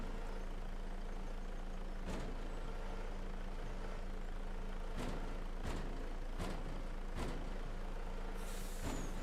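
A truck in Farming Simulator 25 idles steadily while several sharp air-brake hisses burst out at intervals, ending with a higher hiss; no talk.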